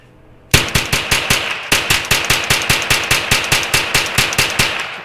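A .22 rifle, a Derya TM22 or Kriss Vector, fires a rapid string of about twenty-five sharp, loud shots in a fast, steady rhythm after a quiet start, with one brief pause partway through.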